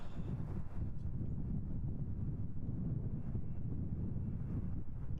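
Steady, loud wind buffeting the microphone outdoors at Schiphol Airport's Kaagbaan runway, a continuous low roar with no break across the whole stretch and no voices.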